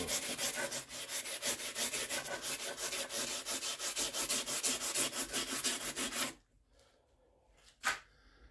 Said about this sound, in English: so now we have a bollock rasp. And it's working pretty much the same.